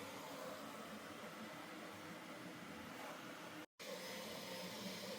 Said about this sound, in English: All three printers are going.